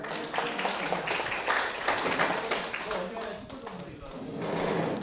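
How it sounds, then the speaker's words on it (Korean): At an officers' retreat of a regional association, the gathered audience applauds newly introduced officers with steady, dense clapping from a sizable crowd, heard close and continuous with voices mixed in. "박수 부탁합니다."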